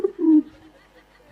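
A voice imitates a pigeon cooing during a Gujarati comedy performance, giving a short, low, throaty coo that swells and fades within about a second, fairly close and alone.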